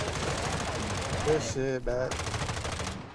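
Video-game gunfire rattles in rapid automatic bursts, loud and dense through most of the moment, briefly giving way to a voice before the shooting resumes; a player speaks over it.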